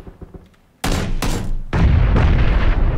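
Gunfire in the video game PUBG: after faint clicks, two heavy close shots crack out in quick succession, followed by a sustained loud burst of booming, rumbling fire.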